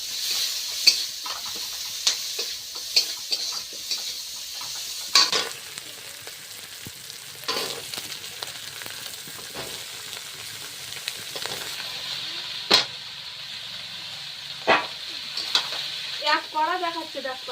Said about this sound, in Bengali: লাউটা আজকে ঝোল ঝোল করবো না একটু ভাজা ভাজা মতন করবো